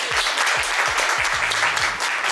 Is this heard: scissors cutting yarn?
no